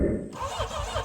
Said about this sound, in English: I'm just putting this in just to see if the starter works, if the engine spins freely and doesn't make a weird noise